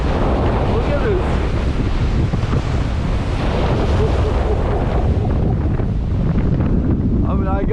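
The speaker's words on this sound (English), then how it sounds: "40 miles an hour winds." Strong hurricane-force winds roar at Sebastian Inlet along with crashing surf, a loud, continuous rush buffeting the microphone throughout.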